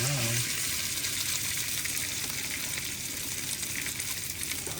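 Tuna steaks searing in a hot pan give a loud, continuous close-up sizzle with a brief lower hum at the start and no talking over it.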